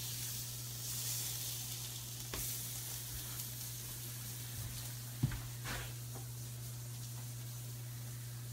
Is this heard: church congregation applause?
no